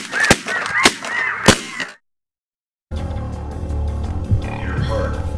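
Snow geese honk in a few sharp, loud calls during a Saskatchewan goose hunt. A brief gap of silence follows, then a dense, noisy stretch of overlapping sound.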